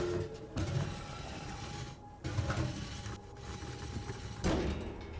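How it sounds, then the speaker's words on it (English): Two rusty metal plates scrape and grind as they slide apart to form a crude door in a video game, a rough mechanical rattle with creaks lasting several seconds, loud and continuous. "Two rusty metal plates that slide apart form a crude door."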